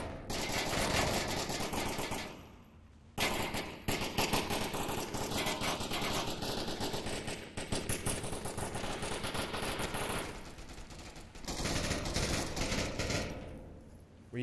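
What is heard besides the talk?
gunfire in the VR video game Onward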